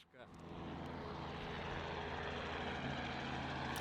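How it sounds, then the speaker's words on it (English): Helicopter passing overhead somewhere in New Zealand, its engine and rotor drone swelling up after a short gap and then holding as a loud, steady roar, with no talk over it. "Hey, helicopter."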